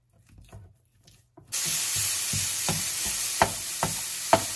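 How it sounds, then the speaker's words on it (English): Longanisa sausage hits hot leftover oil in a pan and breaks into a sudden loud sizzle after a few quiet taps. The frying hiss holds steady, broken by several sharp scrapes and clacks as the meat is broken up. "So now we'll just fry this up, break it up."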